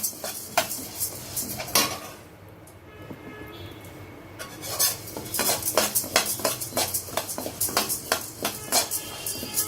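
Toor dal dry-roasting in a pan, heard as busy metallic scraping and rattling of a spoon against the pan in quick repeated strokes, loud and close, with a short quieter pause partway through.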